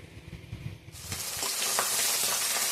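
Pabda fish frying in a pan; after a quiet first second, a loud steady sizzle bursts in and continues close up with crackling spits.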